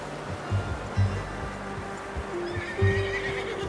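A horse in the Red Dead Redemption 2 video game whinnies while its hooves clip-clop steadily underneath, with a soft wash like distant surf in the background; no one speaks.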